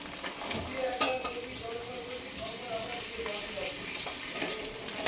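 Peas stirred while frying in a pan make a soft, close sizzle with a few sharp metallic clinks of the spoon against the pan, fairly quiet overall.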